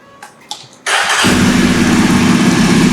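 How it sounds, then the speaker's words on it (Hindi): A Yezdi Adventure motorcycle engine cranks and catches after a couple of faint clicks, then settles into a steady, loud idle with a low rumbling throb. "this is how this motorcycle sounds on an idle mode"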